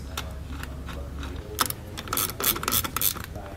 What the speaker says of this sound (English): then you can go back with your ratchet and finish snugging it down afterwards.